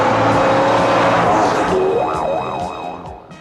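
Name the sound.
car chase in 1980 film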